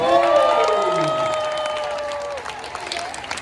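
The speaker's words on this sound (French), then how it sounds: "la main d'applaudissement hyper chaleureuse" Crowd at a sports qualifying event in Montreal, Canada, applauding athletes and organizers, with steady clapping and cheering beneath a strong sustained tonal sound that slides and fades partway through.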